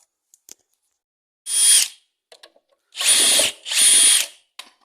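A power tool, likely a drill or impact driver, backs a bolt out of a cover on a Husaberg dirt bike in three close, loud whirring bursts, separated by small metallic clicks.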